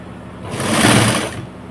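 Electric sewing machine stitching four blouse pieces together in a short, steady burst that swells up and then tapers off, close and fairly loud with no talk.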